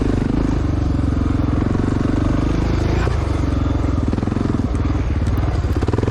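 A 1993 Honda XR600R motorcycle engine racing on a cross-country trail course, a loud, close, continuous thumping drone that holds steady throughout, with slight rises and falls in pace.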